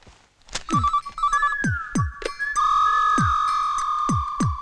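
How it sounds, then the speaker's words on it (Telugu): A telephone ringtone plays a repeating electronic melody, beginning with short warbling notes and then settling into a sustained tone, with sharp percussive knocks punctuating it throughout, fairly loud and close. "ఫోన్ రింగ్ అవుతుంది"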